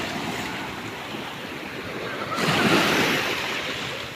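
Waves washing onto a pebble beach at Jagna, Bohol, a broad rushing surf noise that swells louder midway, with wind buffeting the microphone.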